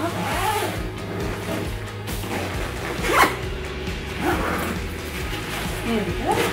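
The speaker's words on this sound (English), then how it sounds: "So I'm going to zipper it up." The main compartment of a carry-on travel backpack is zipped shut with several quick, scratchy zipper pulls, close and clear, while a person talks alongside.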